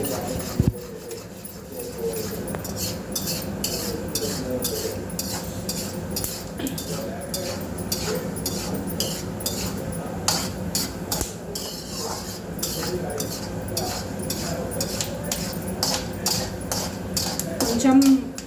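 Semiya upma ingredients, urad dal and peanuts among them, frying and being stirred in a pan, with steady metallic scraping and clinking of a spoon against the pan throughout and a voice talking over it.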